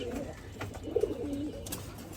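A pigeon on a farm coos softly in a brief, faint call of a few low notes against quiet surroundings.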